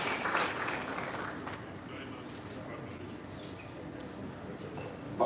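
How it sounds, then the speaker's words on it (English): Audience applause at a live panel discussion, strongest at the very start and then thinning into a soft, distant patter over steady room noise. "please, a round of applause one more time"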